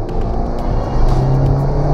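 A car with an automatic transmission held in first gear drives with a close, rumbling engine note that swells slightly and rises in pitch partway through.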